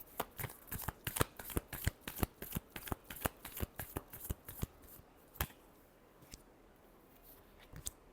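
Tarot cards being shuffled by hand, a rapid series of crisp riffling snaps for about five seconds, then a few sparse taps, close and fairly quiet with no talk.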